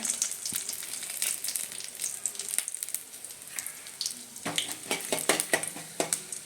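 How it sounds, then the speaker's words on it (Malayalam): Mustard seeds, dried chilli and urad dal crackle and sizzle in hot oil, with sharp popping bursts and spoon-against-pan clinks growing busier toward the end, no voices. "കടുക് പൊട്ടിട്ട് മുളക് ഇട്ട് കൊടുക്കാം"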